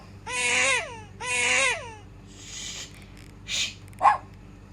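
A dog barking from a sound memory game: two drawn-out, yelping barks in quick succession, then a few shorter, fainter yips, with no talking.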